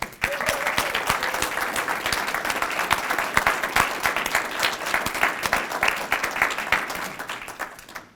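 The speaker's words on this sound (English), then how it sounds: "we need a proper applause for our director, Bob Moore" An audience applauds warmly for director Bob Moore at a membership renewal and new member welcome gathering, steady clapping from many hands filling the room for about eight seconds before easing off.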